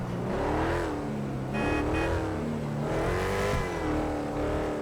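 A car approaches at night, its engine running loud and close in a continuous drone with repeated swells of revving.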